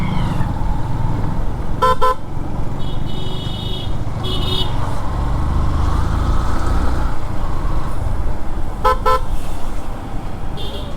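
Heavy road traffic jammed at Jahaj Company junction, with a steady loud engine rumble and short bursts of car horns honking, some doubled or repeated, close by.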